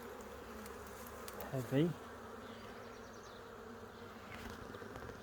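Honey bees buzz steadily around an open, crowded beehive during an inspection, a faint constant drone with one bee passing close by for a brief louder hum, while a person speaks softly.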